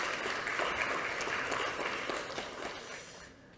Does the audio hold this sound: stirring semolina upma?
no